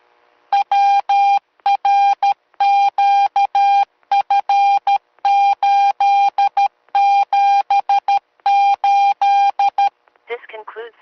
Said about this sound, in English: This repeater ID is call sign WRQF878. In Morse code it is.